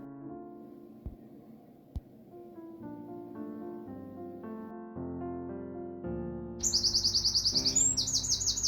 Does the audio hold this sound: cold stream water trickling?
no